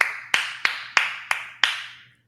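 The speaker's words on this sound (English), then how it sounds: "round of applause for that real quick" Five or six slow, deliberate hand claps in an even rhythm, each crisp and close with a short ringing tail, ending after a couple of seconds.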